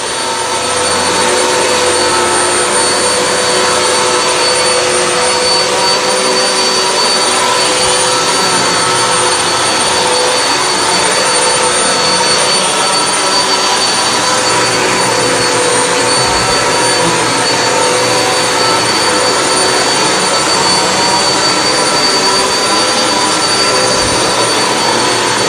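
Hoover WindTunnel High Capacity upright vacuum cleaner running over dirty carpet, a loud, steady, high-pitched whine with a rushing airflow roar, unbroken for the whole stretch with no speech.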